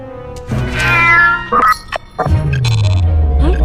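A cartoon cat meowing loudly and close: a long, rising-and-falling meow, then a few shorter cries and a final drawn-out yowl.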